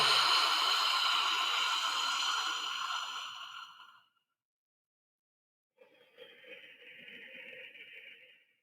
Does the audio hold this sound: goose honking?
no